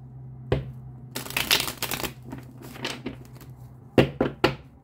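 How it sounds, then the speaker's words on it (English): Tarot cards shuffled by hand close up: quick riffling bursts and crisp taps, a longer flurry early on, then a few sharp snaps near the end. "One more shuffle"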